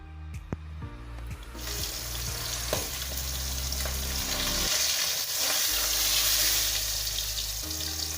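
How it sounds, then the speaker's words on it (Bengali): Oil sizzles and crackles steadily as pabda fish fries in a pan, with a few clinks of a utensil early on. "এবার আমি তিনটে মাছ একইভাবে ভালো করে ভেজে নেবো"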